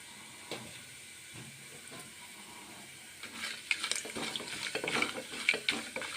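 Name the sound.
whole garam masala spices frying in hot oil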